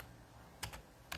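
Typing on a computer keyboard, with a quiet room and two or three sharp key clicks in quick bursts toward the end, close and faint.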